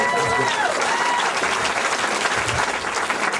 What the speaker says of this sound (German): Nochmal einen riesen Applaus für ihn.